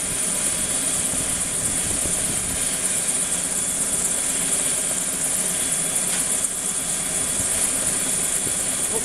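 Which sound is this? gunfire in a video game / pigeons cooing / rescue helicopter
rescue helicopter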